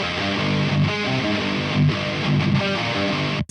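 Heavily overdriven electric guitar through a Soldano SLO-100 amp model with an overdrive pedal in front, playing a chugging riff of palm-muted and ringing chords, loud and saturated, ending abruptly.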